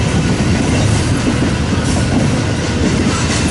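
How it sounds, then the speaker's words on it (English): A westbound Union Pacific double-stack freight train rolls past on the main line in Nebraska, a loud steady rumble of wheels and cars with clickety-clack over the rails filling the whole stretch. "a westbound mega stacker on the Union Pacific main line"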